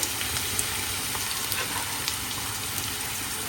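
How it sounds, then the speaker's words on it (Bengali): Onions with garlic frying in a pan for a Bengali fish curry, giving a steady, soft sizzle with faint crackles throughout, fairly quiet and with no talking. "পেঁয়াজটা একটু কষায় আসছে"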